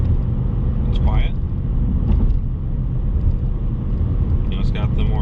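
2020 Ford Mustang Bullitt cruising at 60 mph, a steady low engine and road rumble inside the cabin, with a few faint brief chirps over the drone.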